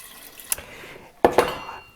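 Tap water splashing into an Instant Pot while making beef stew dog food, two brief bursts of pouring and clinking against the pot, fairly close and alone.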